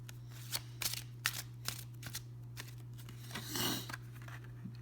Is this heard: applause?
no